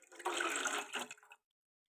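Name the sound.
water poured into pot for curd curry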